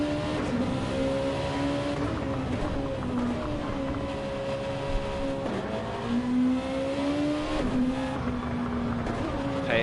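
A race car in a sim racing game, a GT World Challenge round at Grand Valley Highway 1, holds a steady engine drone with pitch dips at gear changes, loud and continuous under faint background.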